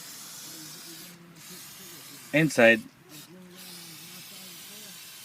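Brake cleaner spray can hissing steadily over brake parts, a continuous close spray that runs through the whole stretch, broken by a short spoken word in the middle.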